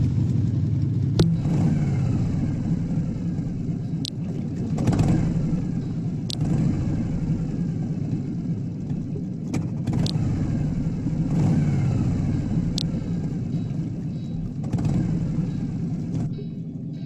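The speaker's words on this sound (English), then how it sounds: "Start engine." A medium-sized motorbike engine starts and revs, giving a steady droning hum that swells in repeated surges over about seventeen seconds, with occasional sharp clicks.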